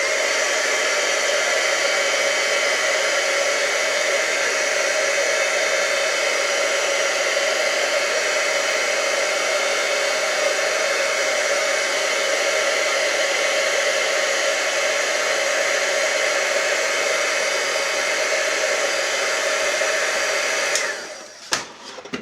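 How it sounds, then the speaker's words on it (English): A heat tool heat-setting embossing powder blows a steady, loud whooshing hiss for about twenty seconds, then clicks off with a few small handling bumps at the end. "Now grab my heat tool and heat set it."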